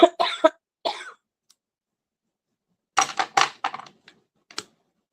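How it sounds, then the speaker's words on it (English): A person coughs and stamps at the same time in two close bursts, a short sharp cluster followed after a pause by a longer ragged run of coughs and thuds, then a couple of faint trailing knocks. "Coughing and stamping at the same time."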